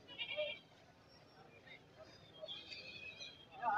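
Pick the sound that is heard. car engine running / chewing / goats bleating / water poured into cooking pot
goats bleating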